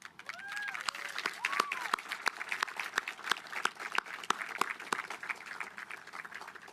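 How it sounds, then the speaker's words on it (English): A graduation audience applauds faculty and staff in a sustained round of scattered, crisp clapping with faint crowd murmur, heard from some distance in a large space. "please first join me in thanking all the faculty and staff from preschool to now that have helped you get here with a big round of applause."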